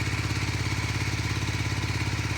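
A 1982 Honda CM450A Hondamatic motorcycle engine runs steadily up close, a throbbing, even mechanical pulse with buzzy clatter and no change in pace.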